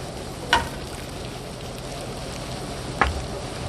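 Potatoes fry in a skillet for a steak and eggs breakfast, a steady soft sizzle with two brief sharp clatters of food or utensil against the pan.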